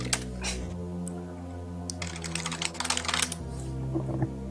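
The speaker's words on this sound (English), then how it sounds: "Sorry about the keyboard, kind of forgot." Clattering computer keyboard keys during a Metroid Fusion 1% marathon run stream, bursts of rapid keystrokes that cluster in the middle with brief pauses, close and fairly quiet over a low steady hum.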